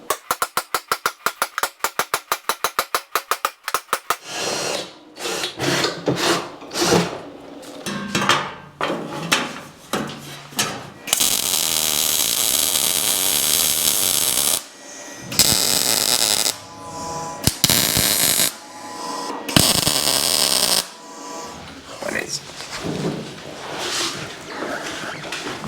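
Metalworking in a garage on a classic car's sill, drilling the top edge for plug welding. A fast burst of rapid clatter is followed by bursts of loud, harsh whining and grinding, broken by pauses and knocks, close by.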